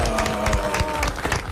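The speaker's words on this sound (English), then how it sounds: "a round of applause for Meshack Mavuso" A studio audience at a breakfast radio show breaks into applause, dense rapid clapping that is loud and close, filling the short moment with no talk over it.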